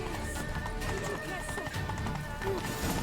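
Horse hooves clatter in a fast galloping rhythm beneath a steady musical drone in a video game, with a voice shouting over the scene and a brief whinny.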